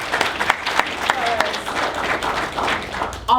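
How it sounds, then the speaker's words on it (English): Audience applause at a group violence intervention forum, steady clapping from a crowd lasting throughout with a brief burst near the end. "I have to applaud our police chief"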